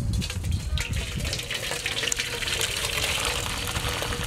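Boiled jaggery water poured through a strainer in a home kitchen, a continuous gushing, splashing flow of liquid lasting several seconds.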